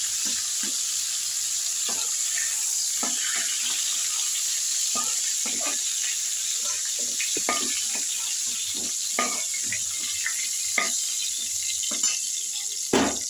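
Cauliflower frying in a pan gives a steady close sizzle, broken by a rhythmic series of soft clicks and scrapes from a utensil turning the pieces.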